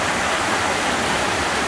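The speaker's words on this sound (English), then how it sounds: "You got these nice little waterfalls over here." A small waterfall near Emerald Cove in a hidden valley pours steadily, a loud, close, continuous rushing hiss of falling water with no voices.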